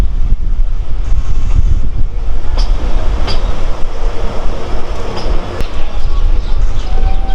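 Steady low rumble of a train rolling along rails through hills in Assam near Badarpur station, with faint clicks and wind buffeting throughout, loud and continuous.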